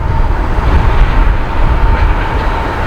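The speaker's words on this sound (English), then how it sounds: "here comes that southbound freight on the Canadian National" A southbound Canadian National freight train passing a rural road crossing, a loud, continuous rumble and rolling roar of railcars close by, with a faint tone running underneath.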